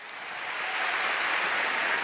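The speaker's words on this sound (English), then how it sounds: "Give him a warm round of applause." Audience applause greeting motivational speaker Nick Vujicic at a live event in Singapore, a dense, steady wash of clapping that swells slightly and holds loud, with no voices over it.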